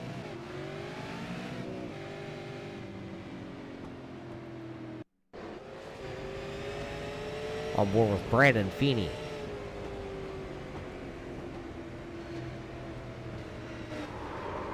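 An on-board race car engine drones and shifts pitch during a Southern National Speedway stock car event. Partway through there is a brief dropout, then a rising rev and a sharp burst as the driver comes off the throttle, with commentary talk throughout.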